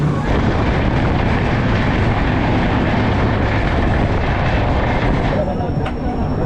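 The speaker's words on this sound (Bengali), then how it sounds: "তিনটে বেজে পাঁচ মিনিটে আমাদের ট্রেনটা সাঁতরাগাছি জাংশনে প্রবেশ করলো" Tamralipta Express train running, heard from inside a general coach: a loud, continuous rumble and rattle that holds steady throughout.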